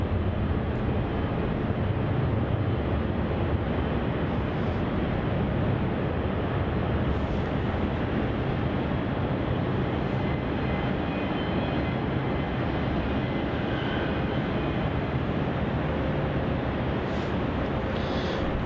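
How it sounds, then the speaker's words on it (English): A Qantas jet taxiing onto runway 34 at Melbourne Airport, its engines a steady, loud broadband roar that holds unbroken throughout. "Turning onto runway 34 now on taxiway Juliet, we have Qantas flight QF410, also off to Sydney"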